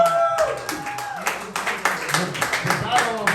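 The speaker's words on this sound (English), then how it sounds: "Round of applause for Mark versus" A comedy roast crowd claps in a short scattered burst of applause, mixed with voices and cheering from the room.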